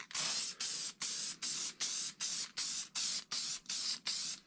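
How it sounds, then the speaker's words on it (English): Ten short, even bursts of Hornady One Shot case lube sprayed from a pump nozzle, hissing in a steady rhythm close to the listener. "and spray it on quite liberally."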